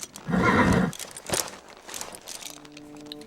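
A horse gives a loud, close whinny, then a few softer snorts and shuffling hoof sounds as it settles.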